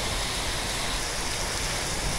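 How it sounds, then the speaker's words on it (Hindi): Very heavy rain in Hisar, Haryana pours down as a dense, unbroken roaring wash, loud and close throughout with no voices. "बहुत तेज़ बारिश है"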